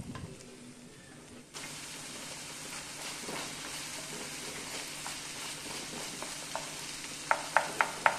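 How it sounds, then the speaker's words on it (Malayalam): Chopped onions sautéing in a pan with ginger garlic paste give a steady close sizzle and frying hiss, joined near the end by a few sharp clinks of a spoon stirring against the pan. "ഇനി ഇതിലേക്ക് 3 സവാള ചോപ്പ് ചെയ്ത് ചേർക്കാം. ഇനി ഇത് കുറച്ച് വഴറ്റിയെടുക്കാം."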